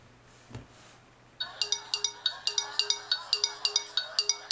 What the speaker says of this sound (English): You have a hard time hearing different text tones and email tones.